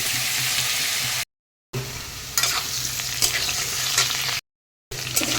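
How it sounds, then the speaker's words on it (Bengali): Potatoes fry in hot oil with cumin and bay leaf while being stirred, giving a steady close sizzle with scraping and clinking from the utensil, broken by two brief silent gaps. "তারপরে আলুগুলিকে আগে একটু ভেজে নেব"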